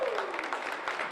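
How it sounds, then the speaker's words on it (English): Brief burst of applause from the audience for a fighter at a post-fight MMA press conference, a steady soft wash of clapping with crowd murmur underneath. "He just deserves a big round of applause."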